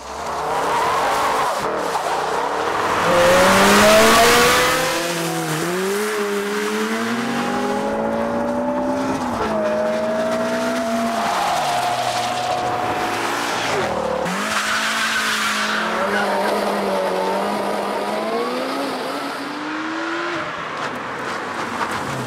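This year's fastest cars accelerating flat out and braking hard on the Bruntingthorpe Airfield airstrip, engines rising and falling through gear changes with long tyre squeals, close and loud, under a narrator's voice.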